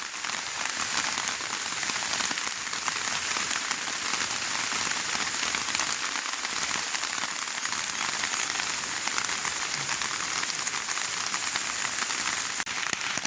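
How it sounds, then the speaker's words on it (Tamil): Steady, continuous rain pours down on a village, a dense even hiss filling the whole stretch without a break, fairly close and constant in level. "இப்போ மழை பாருங்கள் தொடர்ச்சியாக மழை பெய்கிறபடியா"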